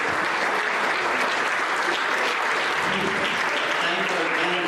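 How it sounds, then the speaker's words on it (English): An audience at a Republican candidate forum gives the two candidates a loud, sustained round of applause, dense clapping filling the hall without a break from start to finish. "Let's give these two a round of applause."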